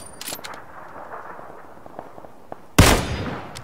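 A single loud gunshot fires in a shooting video game, a sharp blast with a short decaying tail after a quiet stretch of faint background noise.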